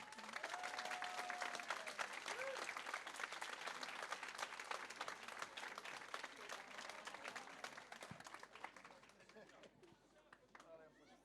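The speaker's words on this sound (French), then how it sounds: "S'il vous plaît, applaudissez Michel Marin." An audience applauds steadily throughout at a dinner speech, dense clapping that fades slightly toward the end, with a few shouts and whistles mixed in.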